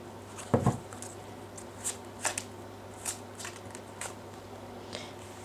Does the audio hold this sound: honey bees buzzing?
no